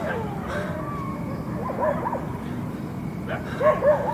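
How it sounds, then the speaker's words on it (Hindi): Several dogs bark and yip from around, somewhat distant, in scattered bursts over a low murmur, with the loudest barks near the end. "कुत्ते चारों तरफ आपको सुनाई दे रहा होगा, भौंक रहे हैं।"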